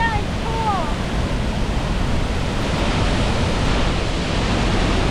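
La Paz waterfall in Costa Rica, heard at the splash zone: a dense, steady, loud roar of falling water that never lets up, with a few brief high whistling tones near the start.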